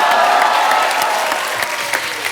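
A studio audience claps at a Hindi comedy talk show: a burst of close, full applause that gradually thins and fades over a couple of seconds.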